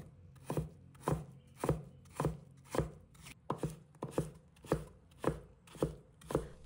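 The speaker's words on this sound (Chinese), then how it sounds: "接着切成丝" A knife cuts potato slices into thin shreds on a cutting board, about a dozen crisp, evenly spaced chops in a steady rhythm, close and clear with no talking.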